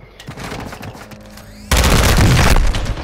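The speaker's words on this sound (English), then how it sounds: "Hostile mortar strike in the area." Mortar strike in Call of Duty Modern Warfare II: faint scattered gunfire and rumble, then a sudden loud close blast that roars on for about a second before tailing off.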